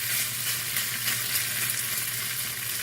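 Sloppy joe meat sizzles and hisses in a hot pan as it is stirred, a steady close frying noise with a faint low hum beneath and no voices.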